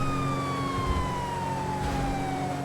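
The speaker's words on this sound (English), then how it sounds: "we get modern, real-world siren tones that sound much closer to what you'd expect from current generation vehicles" A modern real-world emergency siren tone from a GTA 5 siren pack in a video game: a steady, loud wail sweeping slowly downward in pitch, with a low vehicle rumble underneath and no talk.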